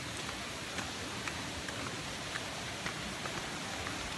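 Light rain falls steadily during a jungle trek toward a spring in Antique, Philippines, a faint, even hiss with scattered soft drop ticks throughout.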